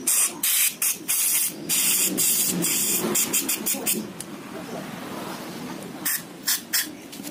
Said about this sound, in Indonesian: langsung aja kita semprot semprot